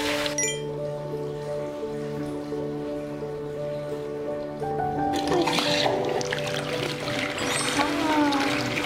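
Hot spring water pouring into a bath at a resort hotel in Kusatsu Onsen, a steady close splashing flow that swells louder partway through, with a sustained tonal hum beneath.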